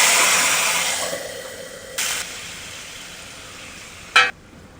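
Mustard seeds dropped into hot oil with cumin give a loud, steady sizzle that slowly fades, broken by two brief bursts of louder crackle.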